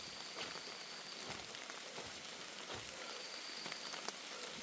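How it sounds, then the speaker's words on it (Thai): Steady heavy rain pouring down, a dense continuous hiss of drops hitting surfaces with occasional louder splats, no voices. "ฝนตกขนาดนี้"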